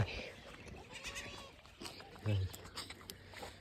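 Goats and young goat kids bleat in short, wavering calls close by, several overlapping cries among rustling and soft voices in the background.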